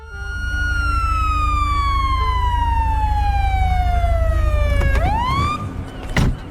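An intact police car siren in the video game GTA 5 wails loud and close, one long slowly falling sweep that turns into a quick rising whoop near the end, over a steady low engine rumble with a short burst at the finish.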